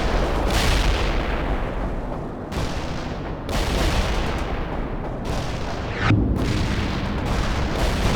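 Incoming artillery fire in the war game World in Conflict, a dense barrage of heavy booms and rumbling explosions rolling on continuously, loud and close with several sharper blasts standing out.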